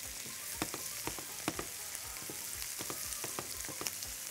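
Onions sauté in a pan with a steady, close sizzle and frying hiss, punctuated by soft irregular stirring clicks and scrapes; no one speaks.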